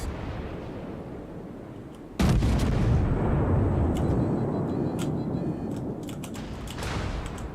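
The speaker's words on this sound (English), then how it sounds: "New shell detonation graphic." Naval shells detonate in a video game: a sudden heavy blast hits, followed by a sustained rumbling roar with scattered sharp cracks and pops of distant detonations.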